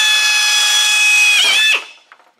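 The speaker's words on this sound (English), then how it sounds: "And then I want to drill this hole here" A power drill bores a hole in the bulkhead of a 1933 Ford Vicky, a loud steady whine close by that winds down abruptly near the end as the bit breaks through, followed by a faint clatter.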